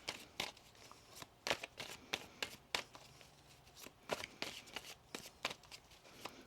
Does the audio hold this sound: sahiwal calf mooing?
no